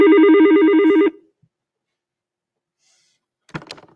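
A phone rings with a loud, steady warbling electronic tone for about a second, then stops, leaving near silence before a brief faint clatter.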